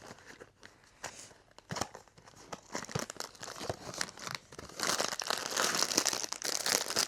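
Crinkly plastic rustling and crackling close up, growing louder and busier toward the end as the bag is handled and torn open.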